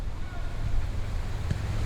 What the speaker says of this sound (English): unfortunately it's a little windy